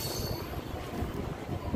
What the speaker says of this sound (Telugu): పోచారం నుండి మన ట్రైన్ అయితే బయలుదేరిపోయింది